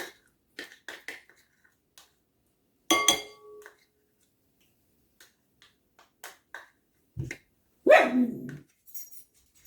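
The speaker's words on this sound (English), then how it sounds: "That's my puppy Oreo." A small dog barks in a home kitchen, short faint yips and one louder bark at the end, mixed with scattered clinks of glass and cans and no talking.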